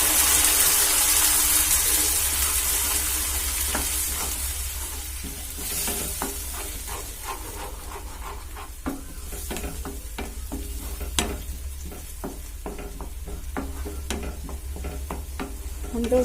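Browned onions fry and sizzle in a pan for Odia badi besara curry, with a spoon scraping and stirring in repeated sharp clicks as butter goes in, a steady hiss underneath throughout.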